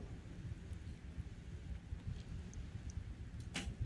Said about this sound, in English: I think I can hear thunder in the background. We've got rain coming down.